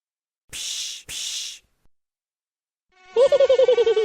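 Two short hissy bursts, then a pulsing, wavering buzz like a mosquito passing near the ear, fluttering rapidly for about a second.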